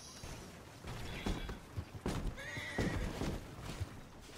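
Horses neigh and whinny several times over clopping hooves and wagon creaking in the video game Red Dead Redemption 2, with no one talking.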